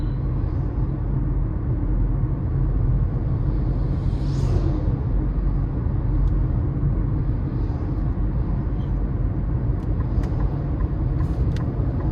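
Steady, low road rumble and tire drone inside the cabin of a 2026 Nissan Kicks S FWD cruising on a windy day, even and moderately loud with faint intermittent clicks.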